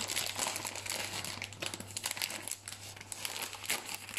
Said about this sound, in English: I just need to get into my cheese because it wasn't cut open.